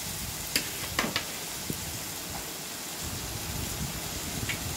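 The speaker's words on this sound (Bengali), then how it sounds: "ভালো করে মশলাটা কষিয়ে নেব।" Spice masala is stir-fried with papaya in a pan, making a steady low sizzle with a few light clicks of a utensil against the pan, close and without speech.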